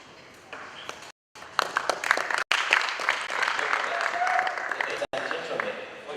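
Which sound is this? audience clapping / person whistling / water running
audience clapping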